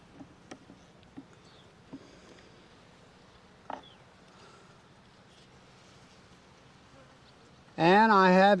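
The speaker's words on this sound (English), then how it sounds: "Pretty good population of bees for two-framer." Honey bees on a two-frame hive frame give off a faint, low, continuous buzz with scattered soft taps. A voice speaks loudly near the end.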